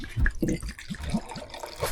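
Rum given as a gift is poured from a bottle aboard a canal boat, a short, close gurgle and splash of liquid lasting a couple of seconds.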